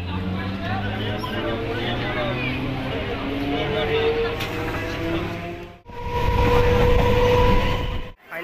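Train at a busy station as passengers board, with a continuous loud rumble of rail cars and crowd babble and talking throughout, briefly dropping out twice.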